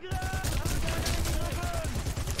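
Rapid turret machine gun fire from the video game Sniper Elite V2 rattles continuously in dense bursts, with a voice talking faintly underneath.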